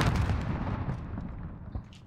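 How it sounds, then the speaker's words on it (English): A grenade going off in a first-person shooter match, one loud booming blast right at the start that rolls off and decays over about two seconds, with faint scattered pops trailing after. "I'm gonna throw one more nade in there."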